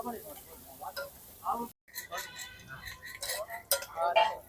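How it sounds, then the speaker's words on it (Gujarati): Pav bhaji ingredients fry in a pan, with a low sizzle under a spoon or spatula clinking and scraping against the metal in bursts. There is a brief silent gap partway through, then the stirring and clinks pick up again, close by. "પછી થોડી વાર ફ્રાય થવા દઈશું."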